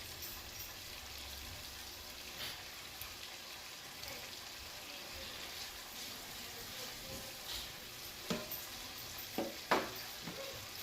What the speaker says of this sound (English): I'm gonna saute like another minute.